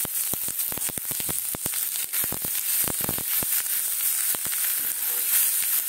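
Onions fry in a pan with a dense, loud, continuous sizzle, close up, and many sharp crackling pops scattered throughout.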